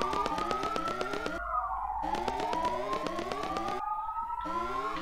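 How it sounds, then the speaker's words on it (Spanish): Siren wailing steadily outside with repeating rising and falling sweeps, loud and continuous for several seconds, briefly cutting out and resuming, with no talk over it. "No sé si pasa la ambulancia"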